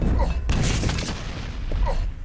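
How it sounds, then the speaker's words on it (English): Rocket explosions in a competitive video game match, a dense run of booming blasts and bursts that rise around the half-second mark and roll on continuously, loud and close with no clear gaps. "And here comes Cypher once again with the rocket action."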